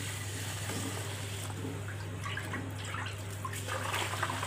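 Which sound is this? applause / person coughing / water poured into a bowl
water poured into a bowl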